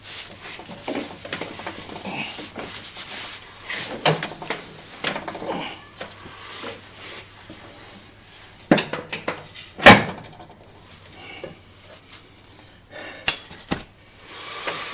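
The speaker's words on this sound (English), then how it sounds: "That's a 15/16 nut on there, so we'll take this breaker bar and we'll yank on it." A breaker bar loosening a 15/16 nut on the blade of a Troy-Bilt 42X riding mower, with sharp metallic clinks, knocks and one loud clank amid scattered tool handling, close by.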